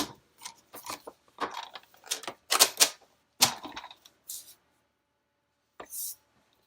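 Paper for a Happy Planner being cut by hand, a series of short crisp snips and rustles close up, irregularly spaced with brief pauses between them.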